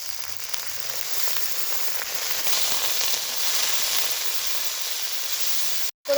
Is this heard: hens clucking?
no